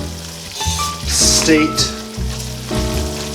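An oil and flour roux for Cajun gumbo sizzles loudly in the pot as it is stirred continuously, a close, bright frying hiss with scraping strokes, while a person talks over it.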